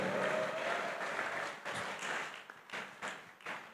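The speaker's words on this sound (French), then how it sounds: "Clap for Jesus if you have understood." Congregation clapping in a church service, a rolling wash of applause that breaks into several separate bursts of claps toward the end.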